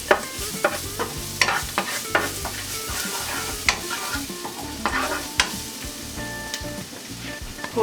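Garlic stir-frying in oil in a hot pan for lo mein, with a bright close sizzle and repeated sharp clanks and scrapes of a utensil stirring at an irregular pace, no talking.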